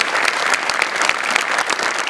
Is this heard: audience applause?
yes